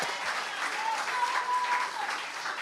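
An audience at a Prime Minister's forum gives a round of applause for a presenter: a soft, even patter of many hands that sounds fairly distant and keeps a steady level throughout.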